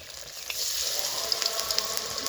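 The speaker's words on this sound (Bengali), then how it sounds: "তেলে পিঠেগুলো দিয়ে দিয়েছি নাস্তাগুলো তেলে দিয়ে দিয়েছি আর এইভাবে ভেজে নিব সবগুলো" Potato and wheat-flour pitha snacks frying in a pan of hot oil, a steady dense sizzle with small crackling pops throughout, close and fairly loud, no talking.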